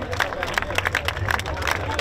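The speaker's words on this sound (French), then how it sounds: "On va encore les applaudir, le public honneur, comme il le mérite" Scattered clapping and crowd murmur, a moderate applause from a gathered audience welcoming arriving sailors of the Banque Populaire XI race boat, steady throughout.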